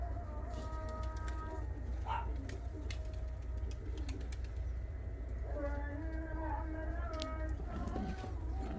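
Soft, steady cooing of homing pigeons layered over a constant low hum, with a few light clicks and rustles scattered throughout.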